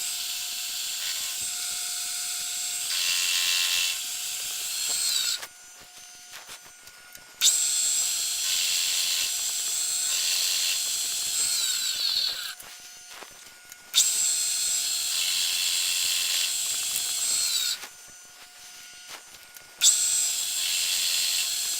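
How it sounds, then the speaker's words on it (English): A milling machine cuts a little at a time off the edge of a Tecumseh choke cable clamp, giving loud, high, grinding passes of about five seconds each, separated by short quieter gaps while the cutter runs free. "I'm going to use the mill and take a little bit off the edge at a time"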